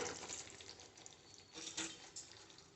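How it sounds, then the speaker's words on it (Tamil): Soft trickle of water being poured into a cooking pot of raw mango kara kuzhambu, faint and brief, with a few gentle splashes and no voices. "இன்னும் கொஞ்சம் நான் தண்ணி விட்டுக்கிறேன்."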